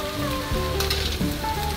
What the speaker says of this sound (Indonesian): Baik teman-teman, boleh kita adukkan sebentar agar bahan-bahan yang telah kita masukkan tadi bisa berbaur merata dengan sayur kolnya.